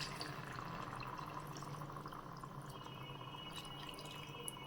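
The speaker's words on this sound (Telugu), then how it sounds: "వాటర్ యాడ్ చేసేసి" Water poured into mutton curry in a pot, a faint, steady trickling and splashing with light drips, quiet and continuous, no talk.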